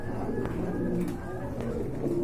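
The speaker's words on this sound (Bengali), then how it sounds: "আরেক জোড়া কোয়ালিটি ফুল কবুতর" Pigeons kept for sale, a pair of quality birds, give soft, low, repeated coos nearby at fairly low volume, with faint background voices.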